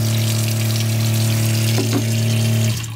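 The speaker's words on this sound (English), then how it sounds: "There we go. Running water." Water pump running in an overland camper while the sink faucet flows, a loud steady tonal hum over rushing water, close by, with a couple of clunks before the pump cuts off at the end.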